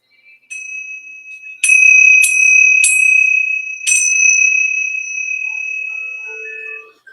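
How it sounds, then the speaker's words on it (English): Small bells ring during a short group chant, a few bright struck tones clustered together that then sustain and fade, with faint softer tones near the end. "we're going to ring the bells real quick"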